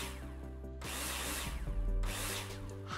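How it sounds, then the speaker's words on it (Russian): Power drill in the Builder Simulator video game, whirring in two loud bursts with steady mechanical hum and brief pauses between, no talk over it. "снова дрелька в ход пошла"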